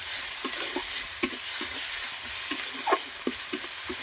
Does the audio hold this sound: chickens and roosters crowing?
no